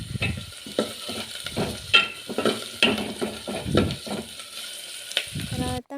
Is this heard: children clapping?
no